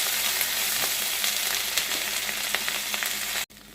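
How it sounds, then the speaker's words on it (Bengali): Grated ginger and whole spices fry in hot oil in a pan for a Bengali vegetarian potol dish, a steady broadband sizzle with small crackles throughout that cuts off abruptly near the end. "আদা দিয়ে ভালো করে আরেকটু ভেজে নিতে হবে।"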